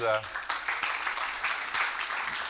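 An audience at a leadership talk applauds steadily, with continuous dense clapping of moderate loudness and a brief voice at the start.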